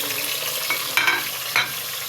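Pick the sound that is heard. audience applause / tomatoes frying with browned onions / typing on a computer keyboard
tomatoes frying with browned onions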